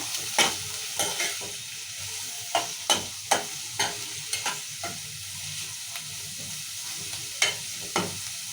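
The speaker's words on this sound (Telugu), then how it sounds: "ఇప్పుడు ఉల్లిగడ్డ వేసుకుందాము ఉల్లిగడ్డలు వేసుకొని కలుపుకోవాలి మనం మంచిగా" Chopped onions sizzle in hot oil with tempered cumin and mustard seeds in a pan, while a spoon scrapes and stirs in sharp, irregular strokes over a soft, constant frying hiss.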